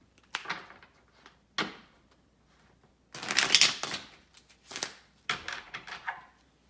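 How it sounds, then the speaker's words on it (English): A deck of Fuego! game cards is riffled and shuffled in several short bursts separated by pauses, with soft taps and clacks between, close and fairly quiet. "Next, you shuffle the deck."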